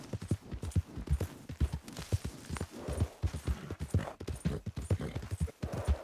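Horse hooves clip-clopping at a steady trotting rhythm in Red Dead Redemption 2, close and even, with a faint rustle beneath, no talk.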